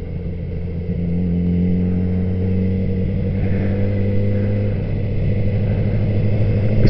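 Yamaha R6 sport bike heard from onboard while riding a twisty mountain road, a steady, loud, close engine drone with rising and falling pitch as the throttle shifts, mixed with constant wind rush; no talking.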